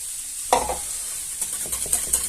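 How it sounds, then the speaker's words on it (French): Milk is stirred into leeks cooking in a pan, with a soft sizzle under scraping, irregular spoon strokes, close and fairly quiet. "Maintenant, on va rajouter le lait et l'appareil va être terminé."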